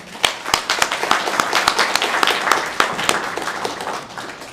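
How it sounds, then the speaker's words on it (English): A small audience at an amateur radio club meeting claps, scattered distinct hand claps blending into brief moderate applause that tapers off. "let's give them a round of applause anyway"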